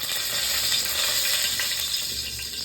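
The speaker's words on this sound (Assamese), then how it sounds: "পানী পৰি আছিলে।" Water pours steadily into a pot during restaurant-style chicken pulao cooking, a continuous broadband rush that holds loud and even throughout with no voices.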